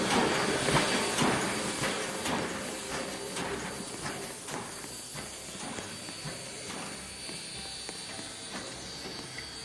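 A train in a Roblox game rumbles and clatters past with hissing noise and steady rolling sounds, fading slightly over time, with no voices.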